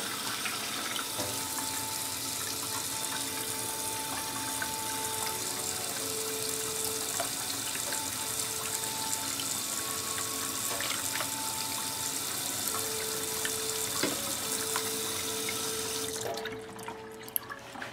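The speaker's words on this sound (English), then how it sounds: "The only reason that I continue to pour water in there is because the drain out the cup is faster than it's actually pumping." Water pours steadily into a cup while a small pump drains it, giving a continuous trickling, splashing stream close by with no talk, ending abruptly near the end.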